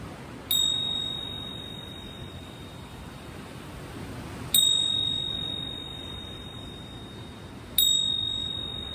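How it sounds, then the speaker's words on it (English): A meditation bell bought in Mysore, India, struck three times, each a bright clear ding that rings out and slowly fades, close and alone over quiet background hiss. "I finished the practice just with a ring of this bell I bought in India, Mysore."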